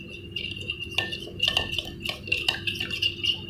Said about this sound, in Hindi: तो पहले इस मसाला अच्छी तरह से मिक्स कर लेंगे दही के अंदर